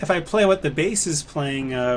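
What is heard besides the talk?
No everyday noise stands out behind the speech.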